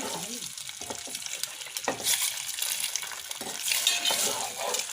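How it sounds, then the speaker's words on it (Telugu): Eggs fry in a hot pan with a steady close sizzle and crackle, while a utensil stirs and scrapes against the pan and a voice speaks faintly underneath. "ఎగ్స్ ఫ్రై అయినాయి కలర్ వస్తుంది ఇక్కడ"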